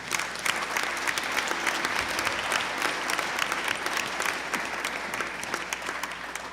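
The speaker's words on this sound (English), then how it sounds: "If we could give her a quick round of applause." Audience applause at a special town meeting, a steady dense roll of clapping from a large crowd holding evenly for several seconds with no speech over it.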